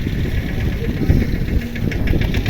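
A mini tractor engine runs steadily while sowing seed in a field, its close, loud mid-pitched drone and rough knocking continuing unbroken.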